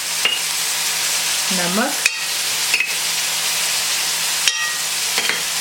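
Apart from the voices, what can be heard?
green onion and potatoes frying in a pan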